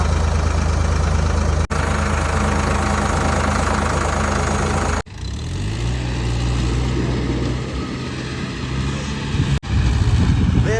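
A tractor stuck on a slope on a farm, its engine running continuously with a low, steady rumble, loud and close, broken by two brief cutoffs.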